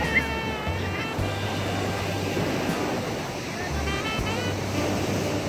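Ocean surf washing onto the beach at Bao Ninh in Quang Binh on a sunny day, a steady continuous roar of breaking waves with some wind, no talk over it.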